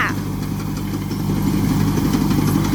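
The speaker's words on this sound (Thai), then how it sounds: "มื่อนี้นะคะมาขับรถเกี่ยวนะคะ" A combine harvester engine runs at a steady idle-like drone while harvesting rice, close and loud, with a continuous low rumble and no clear breaks.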